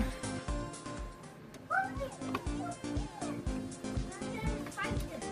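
A dog gives a few short barks and yips in a home where a sewing serger is being threaded, mixed in with a person talking and children's voices.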